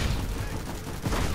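Gunfire from the video game PlanetSide 2, a dense, steady stream of shots forming continuous fusillade-like noise across the whole moment, fairly loud, with a brief surge near the end.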